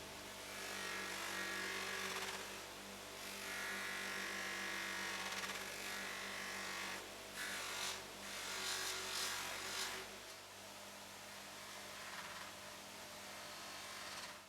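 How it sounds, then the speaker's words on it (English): A buffing wheel fitted with a calico floppy mop and green compound polishes the claw of a nailing hammer, giving a steady whirring grind that swells and dips as the metal is pressed against it. "Use the green compound and the calico floppy mop to polish the claw of nailing on hammers."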